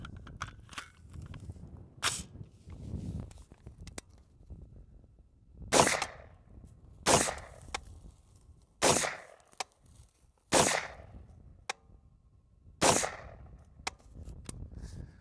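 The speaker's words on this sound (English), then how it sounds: "What we're gonna do now is just put a few rounds through this thing," Adams Arms P1 piston-driven 5.56 rifle fired at an outdoor range: six or seven sharp single shots at irregual intervals of one to two seconds, loud and close, with quiet handling noise between.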